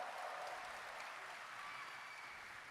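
A live audience at Gamescom 2023 applauding steadily, a dense, even wash of clapping from a large crowd that holds throughout without pause.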